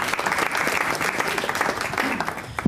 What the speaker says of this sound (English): So can we give a round of applause for Auntie Shirley,